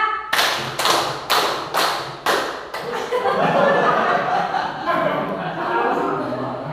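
A group of adults claps five quick, loud claps in an even rhythm, then a few looser ones trail off into chuckles, murmuring and talk during a counted clapping concentration game.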